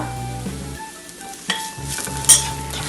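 Spoon scraping and stirring ground pepper, cumin, turmeric and garam masala in a hot pan for Kerala-style pepper chicken, with soft sizzling and a few clinks of metal against the pan, close and fairly quiet.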